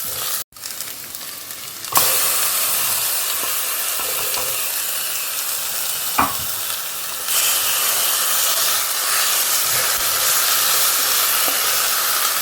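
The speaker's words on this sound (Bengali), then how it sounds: "তাই একসঙ্গে শর্টকাটে আলুটাও ভাজা হচ্ছে, পেঁয়াজটাও ভাজা হচ্ছে।" Potatoes and onions frying together in one pan, a loud continuous sizzle and hiss that briefly dips before surging and swells again later, with an occasional stirring scrape and no talking.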